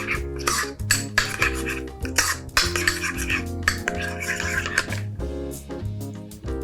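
Dill stirred into sour cream and mayonnaise in a bowl, with a spoon scraping and clinking against the dish in repeated close strokes over steady background music.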